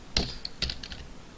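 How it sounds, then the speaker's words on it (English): Computer keyboard typed slowly during coding, a few distinct close keystrokes over about a second. "I need to type this slow before I teach you."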